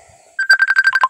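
Phone being dialed in a video game: a low tone, then a quick burst of rhythmic electronic ringing pulses, loud and close, lasting about a second with no talk.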